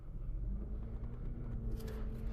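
A car being moved around a transport lot gives a low engine rumble close by, with brief brighter scuffing noises toward the end and no one talking.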